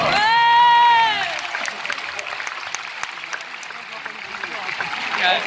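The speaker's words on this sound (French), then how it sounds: "on peut l'applaudir bien fort" Loud audience applause at a French conference show, a dense wash of clapping following a brief tonal sound at the start, sustained to the end.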